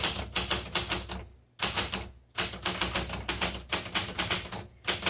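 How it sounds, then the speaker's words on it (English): Rapid clacking keystrokes of a 1978 Smith Corona Classic 12 manual typewriter in busy bursts, separated by brief pauses, close and loud. "this one is a great everyday typewriter"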